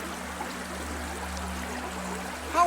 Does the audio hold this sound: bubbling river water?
yes